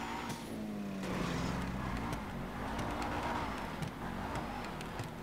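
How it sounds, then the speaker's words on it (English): Car engine in GTA 5 Online during a poor drift, a steady droning tone that rises and shifts in pitch with faint tyre noise, fairly loud and continuous with no talk. "Alright, my car is not drifting very well at all."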